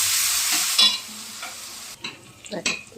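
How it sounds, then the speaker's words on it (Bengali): Ground ginger, garlic and onion masala paste fries in a pan with loud hissing sizzle, then a utensil stirs and scrapes it as the sizzle drops away into scattered close knocks. "দিয়ে মশলাটা ভালো করে কষাবো।"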